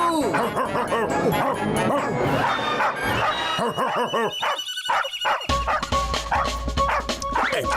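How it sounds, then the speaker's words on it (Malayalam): A cartoon dog barks several times in quick yapping bursts amid busy animated sound effects and music, with a crash-like hit partway through. "ഈ പട്ടിയെ കണ്ട മോട്ടുവിനെ പോലെയില്ലേ?"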